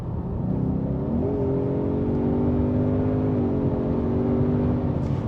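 A Ford Mustang California Special engine rumbles steadily with a deep, loud exhaust note, its pitch rising and holding as the motor revs, with no talking.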